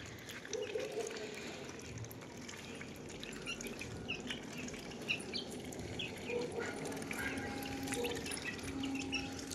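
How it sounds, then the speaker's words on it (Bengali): Ducklings drink and bathe in a basin of water, making soft, quiet splashes and dabbling. Faint drips and a few small peeps sit over a steady outdoor background. "আর এই যে এই গামলায় জল রেখেছি, গামলায় স্নান করে"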